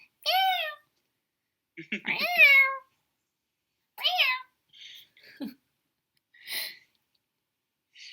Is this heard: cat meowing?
yes